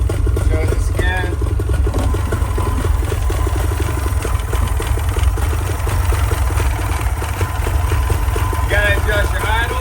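A Tohatsu outboard motor idling during a carburetor repair, a loud steady low rumble close by with faint speech-like sounds over it.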